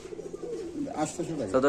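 Pigeons coo among the stalls of a pigeon market where Pakistani Kaldom birds are on sale, with a few soft rolling calls near the end under nearby talking voices.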